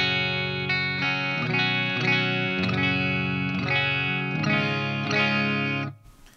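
Clean electric guitar from a 1981 Gibson Les Paul with a Gibson 500T neck pickup, played through a Hughes & Kettner ACCESS tube preamp: a run of ringing, sustained chords changing steadily, played alone, then cutting off abruptly near the end.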